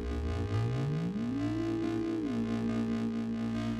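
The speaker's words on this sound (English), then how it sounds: "we can actually also add another sine wave to the mix" A steady, pure electronic tone sweeps smoothly upward in pitch, holds, then drops slightly and settles, sustained against a constant background drone.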